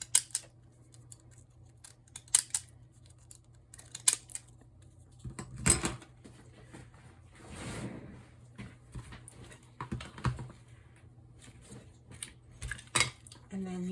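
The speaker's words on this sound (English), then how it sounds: "I'm just going to snip the edge of the petals." Fiskars paper edge scissors snip the edges of paper petals: a series of quiet, crisp, irregular snips, close up and separated by short pauses, with a faint hum underneath and no talk.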